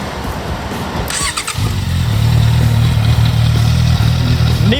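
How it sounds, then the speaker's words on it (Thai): A Honda CBR650F motorcycle engine catches after a short crank and settles into a loud, steady idle close by, with a brief rev near the end. "ลองฟังเสียงเครื่องยนต์กันเลยครับ"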